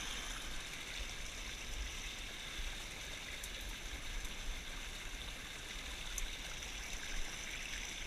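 A small countryside stream where horses drink from a meadow flows with an even, continuous rush and trickle, faint and steady, with no talking.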